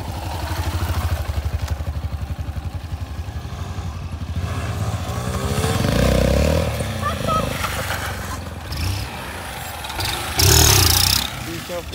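A motorcycle engine runs with a steady low rumble, revving up briefly near the end, while voices talk over it.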